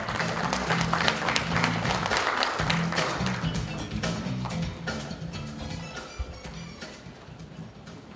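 Sustained audience applause at a Democratic Party leadership candidates' joint speech rally in Jeju, steady dense clapping with tonal hall sound or music beneath, fading slightly toward the end.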